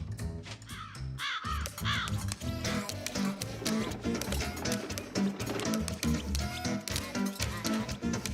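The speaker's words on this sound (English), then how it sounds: "The greedy crows scattered away at once" Several crows caw repeatedly at close range, harsh calls overlapping in an irregular chorus with other background noise.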